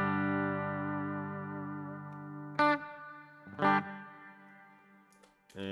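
Sustained guitar chord through the Searchlights effect on an HX Effects processor, a rich shimmering wash of harmonics ringing on with modulated sparkle, broken by a few brief louder picked strums; no voices.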